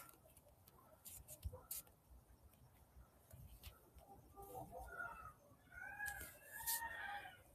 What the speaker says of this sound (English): I think they're birds somebody has.